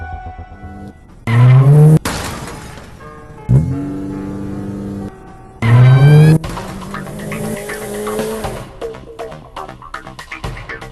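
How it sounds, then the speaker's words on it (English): A car from the Granny horror video game starts up and drives away in the escape ending, with loud revving engine bursts and tire squeals recurring over several seconds, mixed with game sound effects. "this ending is achieved by escaping through the car in any difficulty other than practice"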